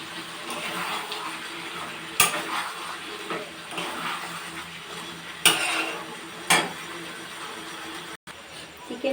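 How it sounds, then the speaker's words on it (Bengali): Chicken kosha being stirred and fried in a pan, with a soft continuous sizzle and scraping under quiet background noise, punctuated by three or four sharp clanks of a spatula striking the pan. "চিকেনটা একটু ভালো করে কষিয়ে নেব।"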